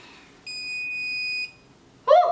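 A curling iron gives a steady electronic beep for about a second, then stops, and a short burst of other sound follows.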